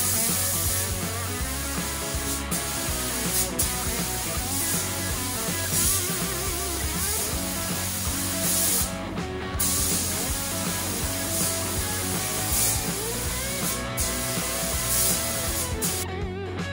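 A Harbor Freight paint spray gun sprays paint in a steady, loud hiss that runs continuously for the whole stretch, with only brief dips where the trigger seems to ease off.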